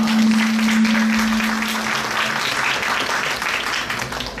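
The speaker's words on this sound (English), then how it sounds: "let's give her another big round of applause" A hall audience gives a big round of applause after a talk on Akka Mahadevi at a Basava Jayanthi 2022 event. The clapping is dense and sustained and fades slightly at the end, with a steady hum beneath it.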